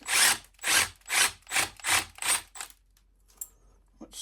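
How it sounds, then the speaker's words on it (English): A power drill with a cone bit grinds through a metal bus bar in six rhythmic bursts, loud and close, followed by quiet with a few small clicks. "the best way to fix this problem is use a cone bit"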